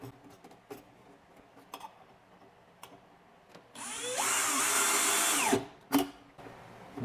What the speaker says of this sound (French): C'est important de mettre la drill le plus possible en diagonale.